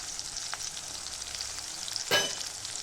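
Garlic paste sizzles in hot oil for a mung-sprout curry with tomato, a steady frying hiss with a louder spatter and stir near the end, no voices.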